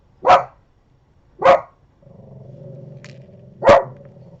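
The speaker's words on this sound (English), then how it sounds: "The movers outside. Upsetting my dog." A dog barks sharply three times at spaced intervals, close and loud, with a low sustained growl rumbling between the second and third barks, reacting to movers working outside.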